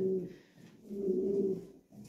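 A pair of top-quality Lahore pigeons coos close by, two rolling phrases with a short pause between them, clear and alone.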